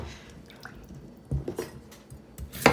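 Cut raw potatoes dropped into a bowl of water, giving a few close wet plops and splashes with a louder splash at the end, in a quiet kitchen.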